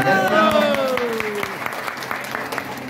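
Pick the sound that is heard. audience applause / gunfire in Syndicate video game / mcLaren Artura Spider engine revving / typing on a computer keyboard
audience applause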